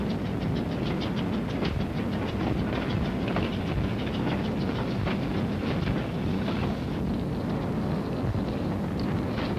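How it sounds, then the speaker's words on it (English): A train loaded with salvaged war equipment and front-line supplies rumbles steadily past at close range, with continuous heavy rolling noise and faint rhythmic wheel clatter throughout, no voices. "And the trains loaded with war wearies going back for salvage."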